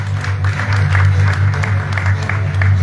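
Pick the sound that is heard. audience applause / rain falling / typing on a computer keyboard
audience applause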